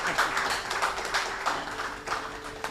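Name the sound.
audience applause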